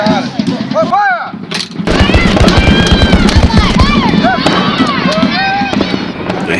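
Volley of musket fire in a Battle of Bennington reenactment, with Hessian troops charging: a dense, rapid burst of loud cracks and booms rolling on for several seconds, preceded by shouted voices and with talk mixed throughout.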